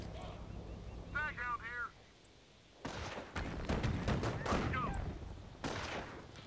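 Gunfire from the World War II strategy game Company of Heroes, with bursts of MG42 machine gun fire among the battle noise, loud and dense for several seconds after a brief lull, with someone talking over parts of it.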